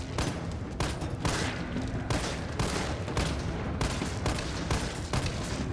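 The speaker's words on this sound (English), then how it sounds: "It takes about 7 shots to down a zombie." Rapid bursts of assault rifle fire shooting zombies in Resident Evil 3 Remake, several loud automatic volleys in quick succession separated by brief gaps, with no talking.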